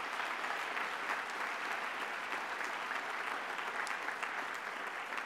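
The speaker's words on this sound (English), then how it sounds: "Give him a round of applause" Dense, sustained applause from a luncheon audience at a Martin Luther King event, a broad even wash of many hands clapping together, steady and fairly loud throughout with no voices on top.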